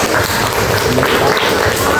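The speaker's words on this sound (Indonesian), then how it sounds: "Oke, beri tepuk tangan dulu." Students in a classroom applaud during a geography lesson, with dense, loud clapping filling the whole brief moment and voices mixed in.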